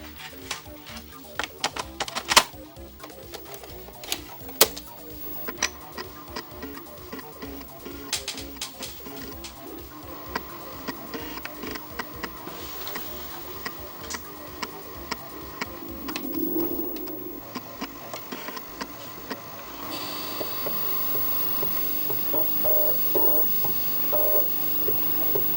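A Roctec Roclite external floppy disk drive loading a game, with rapid mechanical ticks, clicks and head-seek chatter in irregular bursts, then a steadier whirring hum toward the end.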